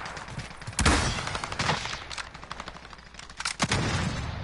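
Enemy gunfire in Call of Duty Warzone: sharp loud bursts of shots crack out, with a heavy volley early on and another near the end, scattered quieter shots between them.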